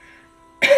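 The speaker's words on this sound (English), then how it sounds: "you might want to cough" A single short cough bursts out near the end, loud and close, after a quiet stretch of faint background tone.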